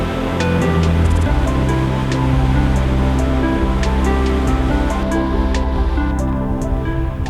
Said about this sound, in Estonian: peatusime järjekordse joa ääres